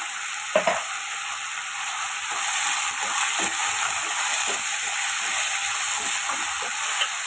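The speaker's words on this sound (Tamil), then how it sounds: "சேர்த்துட்டு இதை காய்க்கு தேவையான உப்பு சேர்த்து வதக்கிடலாம்" Chayote pieces sautéing with salt in a pan: a steady, fairly loud frying sizzle and hiss runs throughout, with a few scraping stirs near the start.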